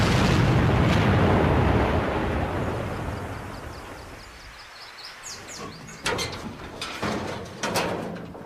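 Explosion test against an armored vehicle: a massive, roaring blast rumble dominates the opening seconds and slowly decays over several seconds, followed by scattered sharp clanks and debris impacts toward the end, with no voices.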